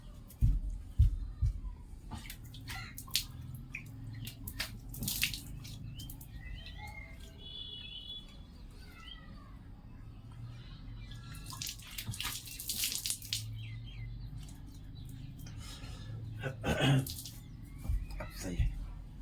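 Water running from a tap and splashed onto a face, heard as intermittent splashy bursts with quiet gaps between, under a faint background hum and occasional chirps.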